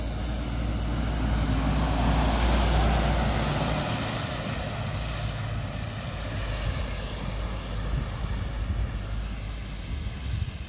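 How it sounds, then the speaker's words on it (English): A fire engine moving around a farm fire at Hoo Farm, Kidderminster, a loud, low engine rumble that swells early, then settles into a steady drone with wind buffeting the microphone. "we can see the fire engine coming around there"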